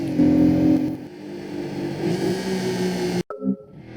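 A video game mid-engine car engine in Gran Turismo PSP drones and revs steadily, its pitch shifting with the throttle, then cuts out briefly before a short burst of engine noise returns.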